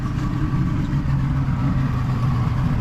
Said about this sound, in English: My hearing is gone for a few minutes from the sound of the engines.